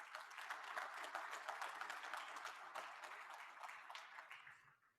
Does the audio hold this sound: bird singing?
no